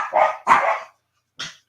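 Dogs at home let out two loud, close barks in quick succession, then a shorter third bark after a brief silence.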